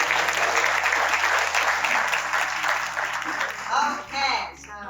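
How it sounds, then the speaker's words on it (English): A community audience at a City of Tucson neighborhood services event claps in a sustained, dense round of applause that tapers off near the end, as a voice starts up over the fading clapping. "So let's give you a round of applause."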